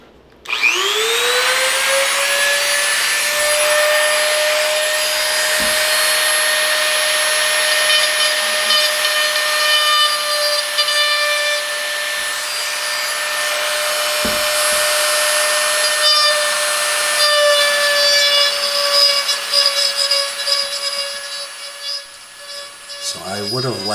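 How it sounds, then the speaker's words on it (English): A Dremel rotary tool fitted with a straight carving bit cuts into wood around the letters of a tiki sign, giving a loud, steady high-pitched whine that spins up at the start and holds for most of the clip. "So now I'm going to use the Dremel. It's got this straight carving bit, I guess. We're going to carve around each letter."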